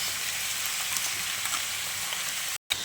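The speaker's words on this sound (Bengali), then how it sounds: "দেখো মা ফোড়ন দিয়ে দিচ্ছে জিরে, তেজপাতা, দারচিনি, এলাচ।" Cumin, bay leaf, cinnamon and cardamom crackle in hot oil, then onions go in and fry with a steady, close, hissing sizzle that briefly cuts out near the end.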